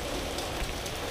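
Heavy rain falling, a dense steady hiss and patter close by for a brief moment.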